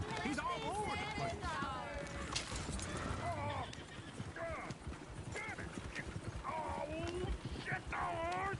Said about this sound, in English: Get the horses! Damn horses!